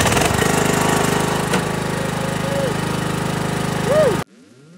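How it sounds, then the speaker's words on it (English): An old tractor engine on a hazelnut farm runs loud and steady with a harsh, rattling rumble, its pitch wavering briefly in a few places before it cuts off abruptly near the end. "It's time to start the old tractor."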